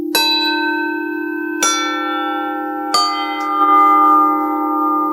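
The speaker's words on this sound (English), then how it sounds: "I get sort of a plate sound" Three strikes on a bronze bell plate from Burma, each blooming into a long, bright metallic ring that keeps sustaining between hits, heard up close with no talk.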